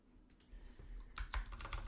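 Quick bursts of keys tapped on a computer keyboard, a short flurry of close, crisp clicks in a quiet room.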